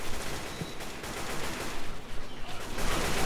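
Rapid, dense gunfire from the video game Left 4 Dead 2 rattles continuously through the short stretch at a steady, fairly loud level, with no talking over it.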